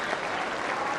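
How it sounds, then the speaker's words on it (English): A rugby league crowd at Derwent Park applauds after New Zealand Māori play Samoa in the 2000 World Cup, a brief burst of steady, distant clapping from many spectators. "And a big hand from this excellent crowd here at Derwent Park."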